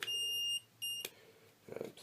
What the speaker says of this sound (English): I just made my camera beep.